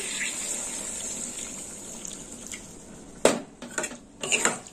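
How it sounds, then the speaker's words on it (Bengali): Water splashes into a pan of pointed gourd cooked with fennel (mouri potol), with a quiet low simmer first, then a sudden close gush and clinking of metal against the pan in uneven bursts. "দিয়ে দিলাম জল"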